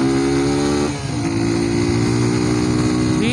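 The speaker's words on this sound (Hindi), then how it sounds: "यामाहा में ये चीज़ बड़ी है कि इंजन एकदम साइलेंट है, तो जो आवाज़ है एग्जॉस्ट की है और वो अच्छी है" A BS3-era Yamaha FZ motorcycle idles and revs through its exhaust, giving a loud, steady engine drone with a brief dip and pitch rise partway through, and no talking.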